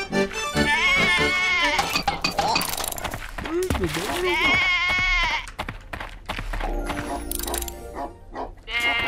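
Sheep in a video game bleat repeatedly in loud, wavering cries, several overlapping calls close by, while someone talks over them excitedly.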